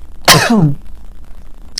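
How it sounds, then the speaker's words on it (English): One sharp, close sneeze bursts out with a falling voiced tail, then quiet room noise follows. "Sneezing again, guys."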